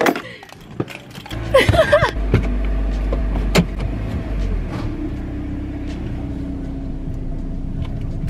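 Inside a car: a few thumps and clicks, then the engine starts into a low, steady rumble and the car drives off, with a faint whirring underneath.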